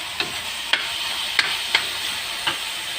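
Winged beans being sautéed dry in a pan for adobo, a steady close sizzle with a handful of sharp scraping stirs of a spatula punctuating it at irregular intervals.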